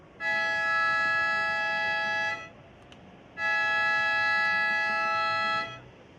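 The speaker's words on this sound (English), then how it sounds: "that siren signals the end of the women's JQS quarterfinal, heat number 4" Two long, loud siren blasts signalling the end of a surfing competition heat, each steady for about two seconds with a short gap between, sounding alone over faint background noise.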